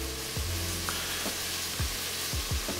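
Diced tomatoes sizzle and fry in a hot pan on medium-high heat, a steady close hiss with occasional stirring scrapes, for a vegetarian watermelon soup.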